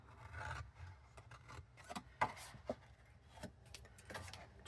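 Paper cardstock being trimmed along score lines with scissors for a Stampin' Up! toadstool garden box, giving soft rasping snips and rubbing strokes at close range, with a few sharper cuts.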